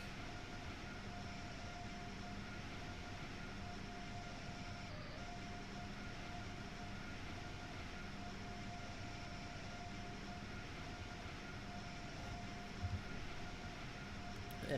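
Acela Express train running at speed in the video game Train Sim World 3, a steady faint rumble and hum that holds throughout without any talking.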